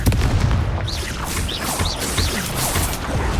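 Confringo fire blast spell in the video game Hogwarts Legacy, a run of booming, crackling magical blasts firing repeatedly in quick succession with rushing whooshes.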